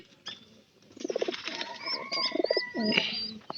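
Pigeons in a loft, including a recently paired female, coo in repeated low throaty rolls close by, several birds overlapping with a few brief higher chirps and wing rustles.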